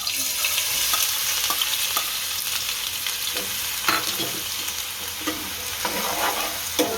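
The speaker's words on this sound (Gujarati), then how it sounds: "તેલ નાખશું આપણું ગરમ થઈ ગયું છે તો આ કાંદા નાખી દઈશું" Chopped onions dropped into hot oil in a home kitchen pan for sev usal, hissing in a loud, continuous sizzle with scattered crackles and soft stirring scrapes throughout, no voices.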